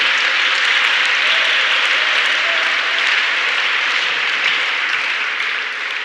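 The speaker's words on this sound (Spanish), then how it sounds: "Dele un aplauso al Señor esta mañana." Loud, sustained applause from a church congregation during a Spanish-language sermon, a dense continuous wash of clapping lasting several seconds without pause.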